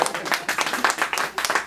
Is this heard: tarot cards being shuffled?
no